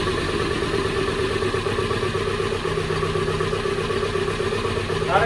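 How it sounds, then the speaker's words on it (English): A car with multiple carburetors, just rebuilt and reassembled, idles after sitting with oil from 1997, a steady, even mechanical drone with a faint clatter running close and unbroken throughout. "After reassembling the carburetors, I got the car started again."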